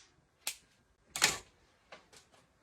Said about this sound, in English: Let me cut off the tag